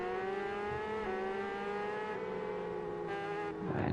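A motorcycle engine in TT Isle of Man: Ride On The Edge 3 holds a steady, buzzing whine, pitch climbing gently as it revs, then dipping abruptly near the end, loud and close with no talk.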